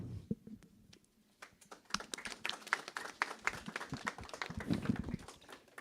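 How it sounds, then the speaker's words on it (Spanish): Quiet, scattered clapping from a small audience at a book presentation in a legislative chamber, uneven claps building slightly and then trailing off, faint and somewhat distant. "ya me aplaudí yo solito"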